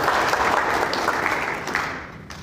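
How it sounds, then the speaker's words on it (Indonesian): Congregation applause during a church service, a dense continuous clatter of many hands from a large crowd that fades somewhat toward the end. "Tepuk tangan itu Tuhan."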